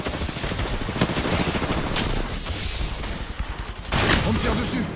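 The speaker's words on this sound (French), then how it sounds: "On me tire dessus." Rapid automatic gunfire rattles in the Apex Legends video game, dense bursts of shots running nearly continuously with a louder burst near the end, close and harsh.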